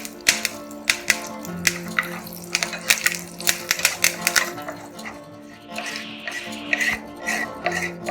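Curry leaves crackle and sputter in hot oil with a fried red chilli while making peanut chutney, giving sharp, irregular pops and spits close by, dense at first and then thinning out.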